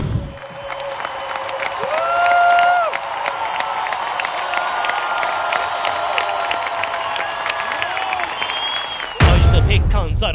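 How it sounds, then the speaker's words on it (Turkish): Thousands of fans applaud and cheer at a stadium concert, a dense roar of clapping with whistles and shouts swelling in the middle, then a loud burst near the end. "binlerce insan alkış tufanı."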